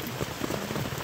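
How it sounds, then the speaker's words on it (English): Rain falls outside a campsite on the Appalachian Trail, a dense close patter of drops hitting a surface, steady and alone with no voices. "As you can hear, it's raining outside."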